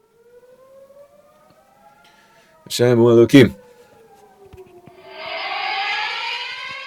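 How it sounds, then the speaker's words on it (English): A civil defense siren wails far in the background, its long rising and falling tone sounding faintly under someone speaking indoors, with a brief loud burst of noise near the middle. "We interrupt this program for a siren."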